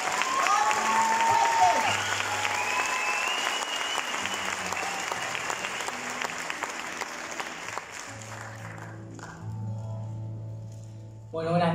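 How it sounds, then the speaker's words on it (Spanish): Audience applause for a new artist at a carnival show, sustained and loud at first, then thinning out and fading toward the end, with a brief voice and a burst of sound near the close. "por favor, un fuertísimo aplauso porque es un artista nuevo."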